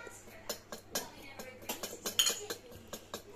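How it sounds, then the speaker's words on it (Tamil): Homemade beetroot lip balm being stirred with a small utensil in a container, giving a quick run of light metallic clinks and taps spaced through the mix, close up and fairly faint with no one talking. "நான் இது கலர் மிக்ஸ் பண்ணிக்கிறேன்"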